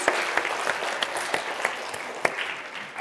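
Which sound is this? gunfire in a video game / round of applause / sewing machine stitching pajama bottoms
round of applause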